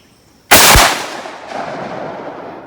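A single loud 12 gauge slug shotgun blast cracks at an outdoor range, followed by a long fading echo rolling away into the distance.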